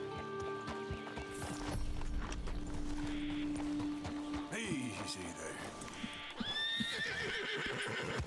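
White Arabian horse in Red Dead Redemption 2 whinnying loudly and close by, with clip-clopping hooves, some mechanical clicks and a steady background hum; a second neigh follows near the end.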